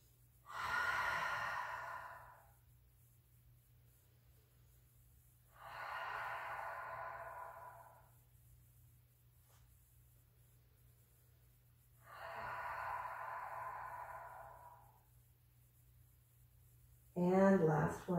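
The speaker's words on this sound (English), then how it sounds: "So we're going to move through a few more rounds of this deeper belly breathing." Slow, deep belly breaths during a quiet yin yoga session, three long soft exhalations spaced several seconds apart with near silence between, close to the microphone, and a sharper breath at the very end.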